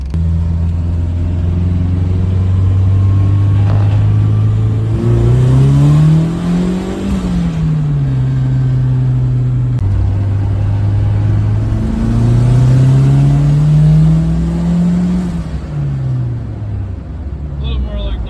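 A turbocharged Datsun wagon with a GT3582 turbo revs hard and climbs through the gears, pulling strongly at about 8 psi boost with rising and falling pitch, loud and close, steady wind and road roar throughout.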